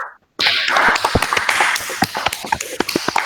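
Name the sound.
students applauding in a classroom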